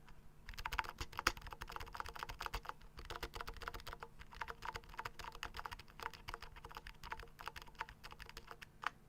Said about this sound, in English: we will just do a bit of bare typing.